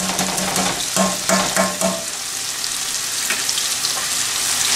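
Spices, turmeric, coriander powder, black pepper and dried fenugreek leaves sauté in a tomato curry base in a kadai with a loud, dense sizzle, a few rhythmic stirring scrapes early on, then steady frying hiss.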